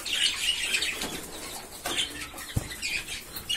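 Chicks and small birds chirp in a coop, giving scattered high tweets close by along with brief wing flutters and a single soft thump.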